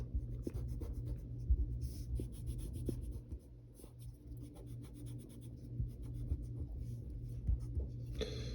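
A pencil eraser rubbing on paper during a cartoon drawing, a continuous close scratchy rubbing with small irregular pulses under a low steady hum, and no voices.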